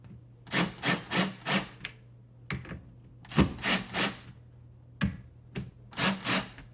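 Screwdriver bit turning a stripped screw in a door hinge, giving repeated short grinding, rubbing bursts in groups of strokes with brief pauses between, close and fairly clear over a steady low hum.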